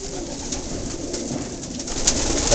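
Soft, continuous cooing from a flock of pigeons in an outdoor loft, steady and fairly close, with faint bird calls mixed in and no speech.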